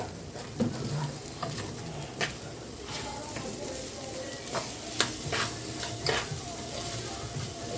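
White beans with meat stirred and fried in a pot, a continuous close sizzle with repeated spoon clinks and scrapes against the metal, with faint background voices.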